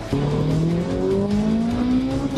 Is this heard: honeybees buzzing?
no